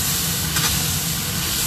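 Diced tomatoes (two, cut into cubes) sizzle in a hot wok during stir-frying, a loud, steady broadband hiss that continues without a break, with no voices heard.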